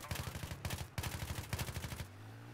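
Automatic gunfire in the video game Battlefield 3, several rapid bursts of shots separated by short pauses, loud and close, ending with a lingering low tone.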